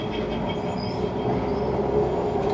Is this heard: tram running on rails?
yes